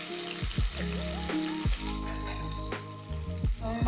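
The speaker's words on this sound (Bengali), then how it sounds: "এখন আমি মাছটা ভাজতে দিয়ে দিলাম" Hilsa fish heads fry in hot oil with a close, steady sizzle, broken by a few sharp stirring clatters.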